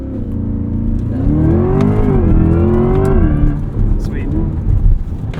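A 2024 Corvette E-Ray launches hard from a standstill, its engine note rising in a sweeping roar under acceleration and then easing off, heard from inside the cabin with some low rumble and bumps.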